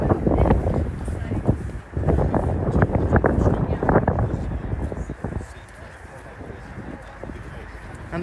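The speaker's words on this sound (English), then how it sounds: "It's probably going to be windy as anything." Gusty wind buffets the microphone outdoors at a large car show, a strong low rumble through the first half that eases toward the end, with faint background chatter from the crowd.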